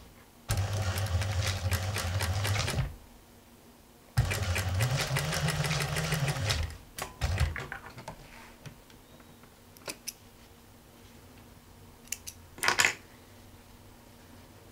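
A sewing machine stitches patchwork triangles in two bursts of a few seconds each, a close, fast whirring motor, followed by scattered small clicks and handling noises of the fabric.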